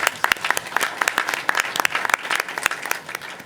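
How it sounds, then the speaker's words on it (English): A room at a city council meeting breaks into a quick round of applause for a team's work during Georgia Cities Week, with loud, uneven clapping from a modest crowd and distinct individual claps standing out close by. "So a quick round of applause for the work that went into this week"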